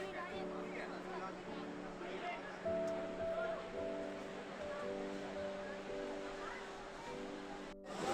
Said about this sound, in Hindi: यह अलकनंदा मैया हैं जो कि हिमालय से बहती हुई आ रही हैं। इनका बहाव बहुत ही ब्यूटीफुल है।